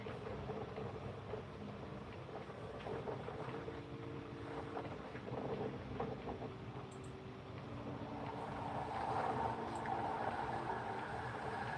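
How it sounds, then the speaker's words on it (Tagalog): Wind rushes steadily across the microphone at an outdoor bus station, a broad rumbling gust noise mixed with faint distant traffic hum that swells slightly toward the end. "Mahangin. Windy."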